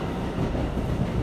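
An R179 subway train bound for Broad St on the J line, running without air conditioning, gives a brief, steady, close rumble of wheels and car noise.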